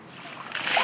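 Ice-cold water dumped from a bucket over a person's head during an outdoor ALS Ice Bucket Challenge, a brief rushing splash that swells loudly in the final half second.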